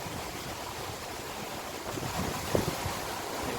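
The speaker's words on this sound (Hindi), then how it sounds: "ये कितनी ज़ोर से हवा चल रही है और सारे पत्ते गिरे जा रहे हैं।" Strong wind blows steadily on a gusty October afternoon in Amstelveen, a loud continuous rushing roar that swells slightly toward the end, with no speech.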